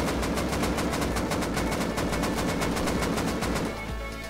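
Rapid full-auto gunfire from a weapon in the survival game Rust, a dense, steady burst of evenly spaced loud shots running the whole time, close and continuous before easing slightly at the end.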